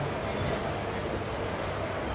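A Katwa–Nimtita passenger train leaves Salar station, a dense steady rumble and rush of moving coaches, loud and continuous.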